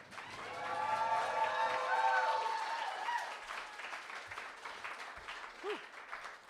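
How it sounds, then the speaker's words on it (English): An audience at a poetry slam applauds for a poet, with steady clapping swelling and then easing off, mixed with whoops and cheering voices from the crowd. "can I please get a thunderous round of applause for a sacrificial poet for Bout 1,"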